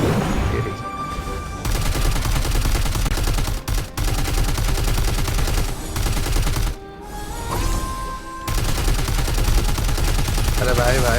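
Dense, rapid gunfire fills the Auroria video game, loud sustained bursts of automatic shots broken by brief pauses.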